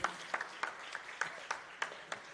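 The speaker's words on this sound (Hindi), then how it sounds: "जोरदार तालियां बजाकर स्वागत कीजिए" Audience at an honours ceremony in Dewas welcoming the Amaltas group team on stage, with faint, distant, evenly spaced claps in a slow rhythm.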